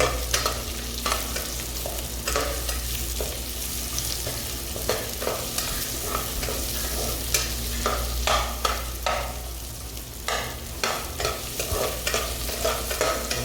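Onions and chili stir-fried in a pan for a Bisaya-style mixed chicken and beef dish: steady close sizzling under repeated scraping and stirring strokes of a utensil against the pan, with no talking.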